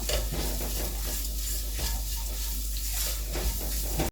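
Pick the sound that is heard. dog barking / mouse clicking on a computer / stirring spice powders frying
stirring spice powders frying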